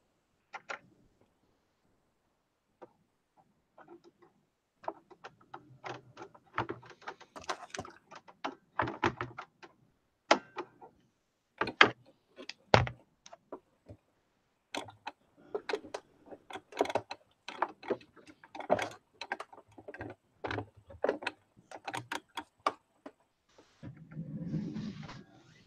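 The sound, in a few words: changing a sewing machine needle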